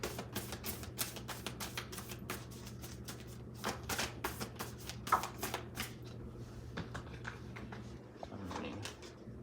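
A deck of tarot and oracle cards is shuffled by hand at close range, a rapid run of crisp riffling flicks and slaps that slows to soft handling at the end.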